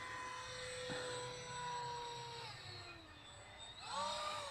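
Electric motor of a radio-controlled model plane doing aerobatics at about a third throttle, a faint distant whine that glides up and down in pitch as the plane manoeuvres.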